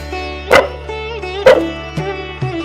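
Dogs being fed milk and biscuits bark in short, sharp, close yelps, about four barks spaced unevenly across a few seconds, with no talk over them.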